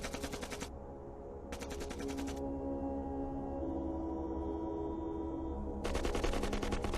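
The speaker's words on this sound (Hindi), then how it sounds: "फायरिंग वापस शुरू हो गई। अपनी तरफ से एक जवान फायर कर रहा है।" Bursts of rapid automatic gunfire in a war film set around a border bunker, with two long volleys at the start and a third at the end, separated by a stretch of quieter rumbling background.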